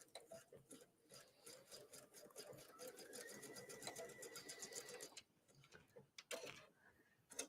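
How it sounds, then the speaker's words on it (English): A sewing machine runs a zigzag stitch over elastic, giving a quick, steady ticking whir that holds for several seconds before stopping. A few faint clicks follow, all quiet and close, with light rustling in the background. "let's go ahead and stitch our elastic. I usually do that with a zigzag stitch"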